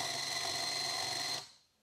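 Electric motor of an LDRC LD-A86P 2WD budget RC drift car, a Toyota Trueno body, under throttle, giving a steady high-pitched whine that holds evenly and then cuts off and fades.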